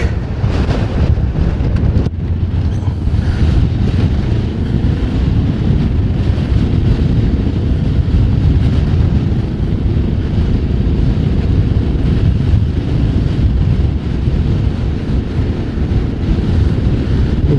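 Heavy, steady wind buffeting against a microphone on a motorcycle riding on an open road near a big mountain. The roar is loud and continuous throughout, with no voice heard.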